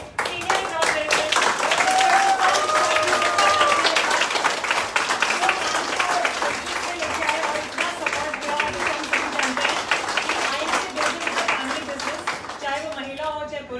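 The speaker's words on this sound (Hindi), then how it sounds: "मैं चाहूंगी कि हम जोरदार तालियां से स्वागत करेंगे" Audience applause for a guest at a live women's empowerment event on Nari Shakti Diwas, a dense, steady wash of clapping that fills most of the stretch, with voices talking over it throughout.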